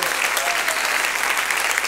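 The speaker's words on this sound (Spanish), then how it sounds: "demos un aplauso a él" Dense, steady applause from a church congregation at a Sunday service, sustained and even throughout with no pauses.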